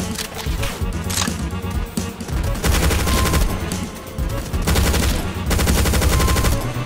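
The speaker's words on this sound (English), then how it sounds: "Kinda feel like there's something shooting." Loud, continuous gunfire in the Doom Project Brutality mod, playing Final Doom TNT: Evilution map Quarry, with rapid machine-gun bursts layered together for several seconds and only brief dips.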